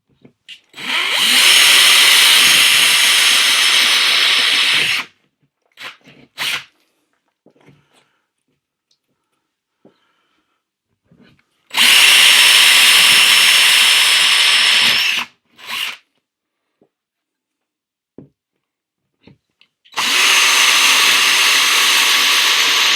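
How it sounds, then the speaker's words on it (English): Power drill with a 25mm splay bit boring into a hollow plasterboard wall, three loud sustained bursts of several seconds each separated by pauses with faint handling knocks. "So with this size, you use a 25mm splay bit."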